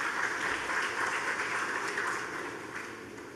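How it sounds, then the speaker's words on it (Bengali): Loud, sustained applause from a large audience at a bank's 60th-anniversary celebration ceremony, a dense steady clatter of many hands that tapers slightly toward the end, with no talking over it. "জোরে করতালি সকলের কাছ থেকে।"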